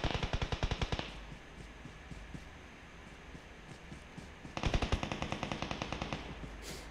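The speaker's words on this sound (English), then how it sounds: "So another guy shooting super close to me" Automatic gunfire rattles in PUBG Mobile, a rapid burst of closely spaced shots, then a quiet pause of a few seconds, then a second loud burst of evenly paced shots nearby.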